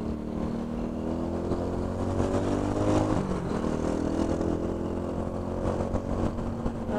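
A courier's motorcycle threads through city traffic, its engine a steady close drone that rises slightly mid-ride, mixed with the surrounding rumble of cars, with no talk.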